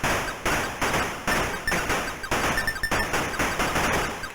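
Rapid repeated shots fire in bursts in the Atari ST shoot-'em-up Plutos, crisp and loud, with a steady staccato rhythm broken by short pauses.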